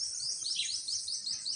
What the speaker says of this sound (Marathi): ते बघा तिथे बसलेले झाडावर पक्षी आहेत